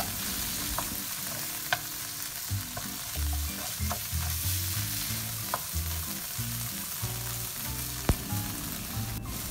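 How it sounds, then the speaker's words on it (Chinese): Minced meat stir-fried with dried prawn sambal and petai in a wok gives a close, steady sizzle punctuated by repeated spatula scrapes and clinks. "然后继续翻炒它，炒到我们的肉碎熟为止"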